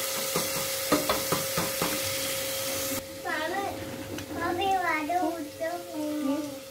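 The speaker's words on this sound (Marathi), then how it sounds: "चटणी थोडी फ्राय होऊ द्यायची" Chutney fries in a pan with a broad sizzling hiss and a few stirring clicks, then a voice comes in over the cooking.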